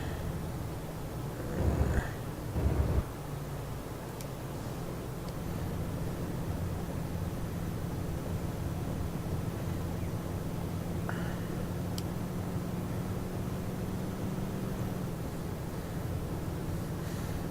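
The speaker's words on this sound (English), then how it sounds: "It's got a little bit more engine sound to it." A truck engine in Euro Truck Simulator 2 idles with a steady, low droning hum throughout, after a couple of brief thumps near the start.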